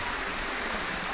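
Steady, full-band rush of water from a waterfall spilling down a green hillside at Sagargad in the monsoon, a continuous even roar with no voices.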